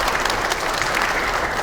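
Warm applause from an audience of lawmakers at a Democratic Party of Korea caucus meeting, a steady dense clapping that fills the whole moment with no break.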